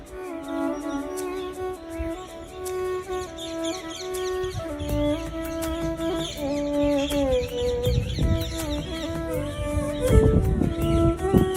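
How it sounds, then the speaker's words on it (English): Birds at temple ruins, with parakeets screeching and chirping in a steady chatter of sharp calls, mid-distance and moderately loud over a murky background. "It's the original sounds of those birds with parakeets screeching away"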